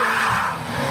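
Tires of a Volkswagen GTI squeal in a steady, loud skid at a car meet, with engine roar underneath and no talking.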